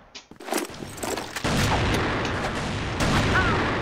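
Rapid automatic gunfire in the online shooter game CrossFire plays during a ranked match, with dense, loud continuous bursts after a brief quieter start.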